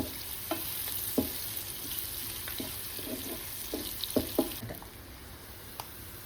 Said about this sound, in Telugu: కొంచెం పచ్చివాసన పోయే వరకు ఇలాగా ఫ్రై చేసుకోవాలి.